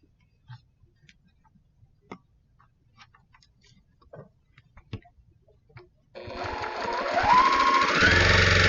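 Scattered soft clicks and taps of fabric handling lead into a sewing machine starting up with a steady, close mechanical whir as quilt block pieces are string pieced.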